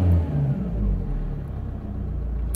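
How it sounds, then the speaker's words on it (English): A Vauxhall Opel Astra engine, fitted with an air flow meter, revs up with a low, steady rumble that swells and holds as it climbs, heard close and alone. "I hope you can follow the engine as it goes"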